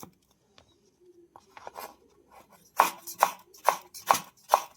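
A knife chops salad vegetables into thin julienne strips on a cutting board: quiet, scattered cuts at first, then a steady run of five or six sharp, close chopping strokes.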